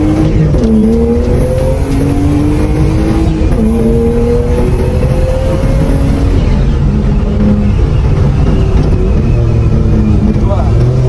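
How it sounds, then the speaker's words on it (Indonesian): A Mitsubishi Galant VR-4 with a stiff racing suspension drifts, its engine loud and revving with gear changes and rising pitch while tires squeal intermittently. "Yuk kita masuk ke bagian driftingnya."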